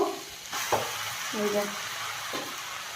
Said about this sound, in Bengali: সবজি একটুখানি ভেজে নিলাম